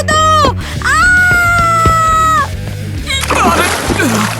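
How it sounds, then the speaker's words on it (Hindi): People jumping into deep water at a vacation beach make a big splash and churning slosh near the end, preceded by loud, sustained screams and wails. "पानी में कूदो।"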